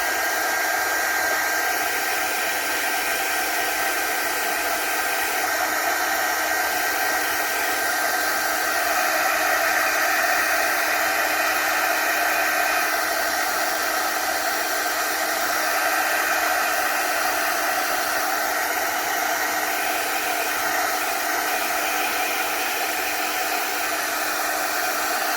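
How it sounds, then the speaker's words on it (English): Heat embossing tool melting embossing powder on a handmade card, a constant blowing hum like a small hair dryer, close and steady for the whole stretch with no talking. "And then just go ahead and heat emboss your folding powder."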